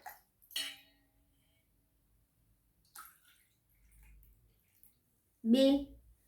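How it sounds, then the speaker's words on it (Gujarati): Water pours briefly into a glass in short splashing bursts separated by quiet, with a cough-like voice near the end. "ચલો હવે આપણે કપ માપીને કરીશું કેટલા કપ અંદર પાણી સમાશે."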